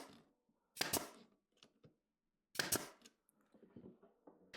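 A nail gun firing 1 3/8 inch nails into 2x4 lumber, two sharp loud pneumatic bangs about two seconds apart, each followed by faint handling clicks and knocks, close and without talk.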